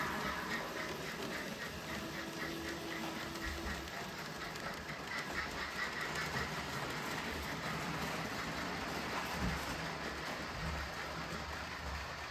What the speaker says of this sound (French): les locomotives roulent encore bien